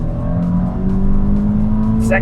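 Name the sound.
car engine accelerating through gears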